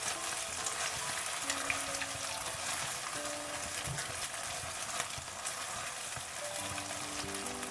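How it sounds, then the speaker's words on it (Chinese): Beaten eggs stir-fry in hot oil over high heat, giving a steady, bright sizzle throughout with faint scraping as they are stirred. "油热之后将鸡蛋液倒进来， 开大火炒，这样炒出的鸡蛋蓬松暄软"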